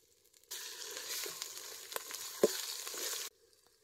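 A stone-ground spice paste fries in hot oil over a wood-fired clay stove, making a loud, even sizzle that starts abruptly, carries a few stirring clacks, and then cuts off.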